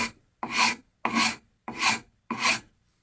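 Fine woodworking rasp filing wood in five steady, evenly spaced strokes, each a close, crisp scraping rasp separated by brief silence, with no voices.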